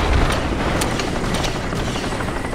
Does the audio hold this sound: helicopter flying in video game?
yes